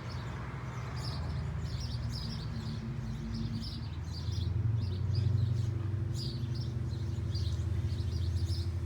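Birds chirping outdoors with traffic nearby, repeated small high tweets scattered through a steady low rumble of passing vehicles, moderately distant, no voices.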